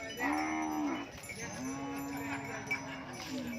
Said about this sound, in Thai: มีวัวใหญ่สองตัวของไผ่เนาะ วัวใหญ่สองตัว